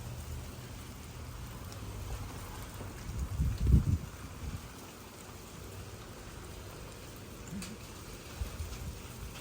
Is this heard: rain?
yes